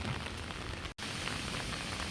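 Heavy rain pours during a cyclone, a loud, unbroken broadband rush of water hitting surfaces. The sound cuts out for a split second partway through, then resumes just as strongly, with no one talking.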